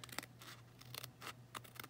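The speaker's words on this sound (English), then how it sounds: "And again, just take those scissors," Scissors snip and trim around a piece of stamped paper in a few quick, close cuts with small scratchy rustles between them, fairly quiet against a faint steady hum.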